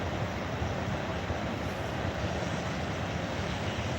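A CSX freight train hauling heavy sand cars rolls past at close range, a steady, dense rumble and clatter that holds at an even loudness throughout with no voices.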